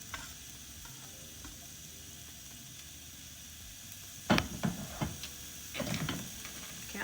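Garlic frying and being stirred in a pan for Jamaican curry shrimp: a faint low sizzle at first, then several clattering stirring scrapes in the second half.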